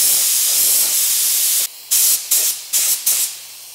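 Spray gun laying yellow base coat paint on car parts, a loud steady hiss that then breaks into four or five short bursts as the trigger is pulsed, close and alone.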